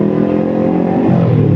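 A Kawasaki Ninja 250FI motorcycle fitted with an Akrapovic exhaust revs up close and loud, its buzzy engine note rising sharply partway through the short burst.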